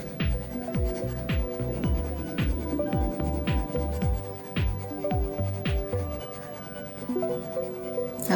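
Ballpoint pen shading on paper, a run of quick rhythmic back-and-forth scratching strokes, close and clear, steady through most of the stretch before easing off.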